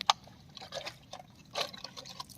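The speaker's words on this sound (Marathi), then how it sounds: "पाणी उडवतो खतरनाक पाणी राहून उडवतोय" A freshly caught boit fish held in a bottle spurts water in short, uneven splashy bursts, close and fairly quiet, with a sharp squirt at the start and another cluster of splashes later.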